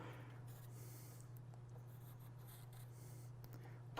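A Sharpie marker squeaks and scratches across a stone slab in short strokes, faint and close, with steady background hum and no talking.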